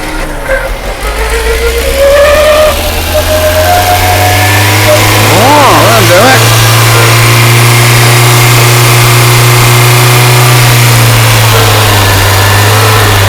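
A Peugeot 305 hedgerow-find car engine runs loudly and steadily close by, with a low rumbling drone and a brief rise in revs midway before settling back to a constant run.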